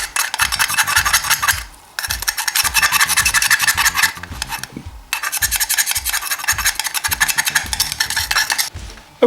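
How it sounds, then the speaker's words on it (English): A screwdriver scrapes dried, loose deposits off a Suzuki RF 900 carburettor in long, loud, rasping strokes, close up and continuous, broken by two brief pauses. "just a bit of a gentle work with the screwdriver will get it all off"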